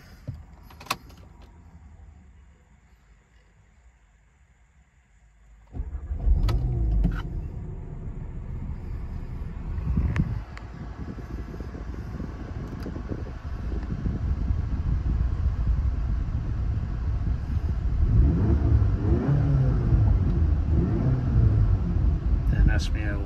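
A black Seat Leon 2.0 TSI Cupra with DSG gearbox and stage 1 upgrade: a few quiet clicks inside the car, then the engine catches and settles into a close, steady low rumble that slowly grows louder.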